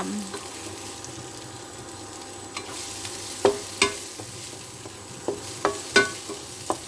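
Wok stir-frying of fern greens (phak kut) with chili in oil, a soft steady sizzle broken by several sharp scraping clacks of a spatula against the pan in the second half.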